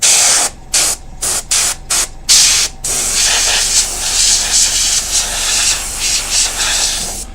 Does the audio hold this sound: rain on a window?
no